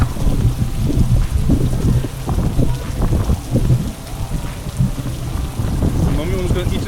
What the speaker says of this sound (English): We are huddling under the tree because it's raining.